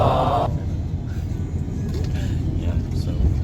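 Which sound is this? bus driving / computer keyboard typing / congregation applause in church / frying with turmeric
bus driving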